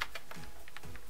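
Keys clatter on a Bluetooth keyboard paired with an ASUS device, a quick uneven run of light, close clicks and taps.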